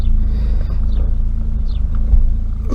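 An Austin Maxi engine idles steadily after its first start in three months, a low continuous rumble heard close up with no talking.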